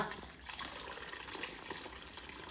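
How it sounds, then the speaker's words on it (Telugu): A steady, fairly quiet splash of a glass of water being poured into a raw mango sambar, continuous throughout with no talking. "ఇంకొక 1 గ్లాస్ వాటర్ పోయాలి"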